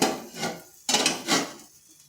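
A metal tiffin box, steamed in water in a covered pan, is lifted off the heat with two sharp metallic clanks and a scrape in between, close by and fairly loud, with no speech.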